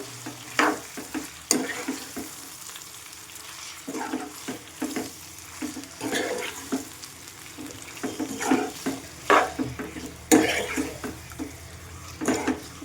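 Chicken liver curry being stirred in a pan: irregular scrapes and knocks of the spoon against the metal over a light sizzle, close by and at moderate volume, with no speech.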